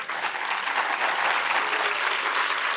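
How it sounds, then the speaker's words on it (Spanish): A church congregation breaks into loud, sustained applause, a dense wash of many hands clapping together without pause. "Denle un aplauso al Señor."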